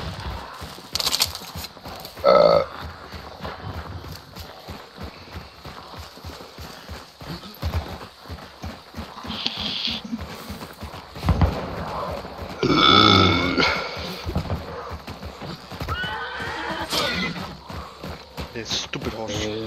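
Horse hooves clip-clop and a neigh rings out inside a multiplayer survival video game, the whinny and footfalls rising amid gunfire-like bursts and players talking over the scene.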